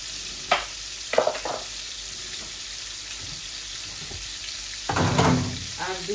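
Whole cumin seeds sizzle in hot oil while being stirred, with scattered scraping stirs and a louder burst of frying near the end, all close up with no talking.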